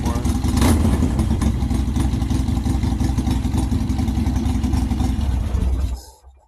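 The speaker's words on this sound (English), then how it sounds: "First startup, I just changed the spark plugs." A motorcycle fitted with new NGK spark plugs starts and runs steadily with a loud, close, rumbling engine for about six seconds before cutting off abruptly.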